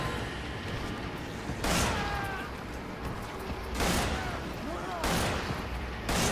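Gunshots from the video game Resident Evil 5, three or four separate booming shots spaced a second or more apart over a steady, noisy game background.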